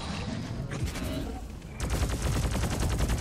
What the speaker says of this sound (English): Okay, yeah, it is the mobile turret.